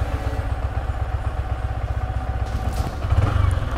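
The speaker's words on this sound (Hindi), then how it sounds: "सो अभी होने देते हैं बाइक का कोल्ड स्टार्ट" A new motorcycle idles just after a cold start, its engine chugging in an even, rapid pulse close to the mic. The engine rises slightly louder near the end, and no one talks.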